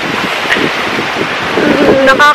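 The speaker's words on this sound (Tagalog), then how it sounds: "ang lamig. Mahangin." Wind buffets the microphone beside Bulusan Lake, a steady rushing roar across the whole stretch with a few faint tonal sounds near the end, alone.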